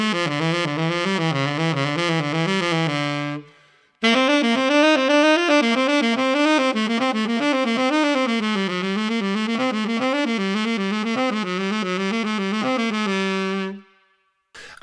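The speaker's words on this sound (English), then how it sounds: "One of them is the faster fingers exercise" Saxophone working through a fast finger-technique exercise: quick runs of notes moving through changing keys. It plays steadily and clearly with no talk, pausing briefly once before carrying on.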